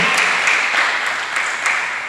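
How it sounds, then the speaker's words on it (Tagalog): A church audience claps together in a steady, dense burst of applause lasting a couple of seconds, fairly loud and close. "kailangan ko ng palakpak nyo para papasok sa puso"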